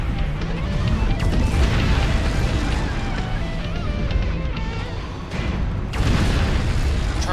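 An enemy mech blows up in the MechWarrior Online video game, a dense, loud, rumbling explosion with sustained low booms and crashing debris that carries on for several seconds.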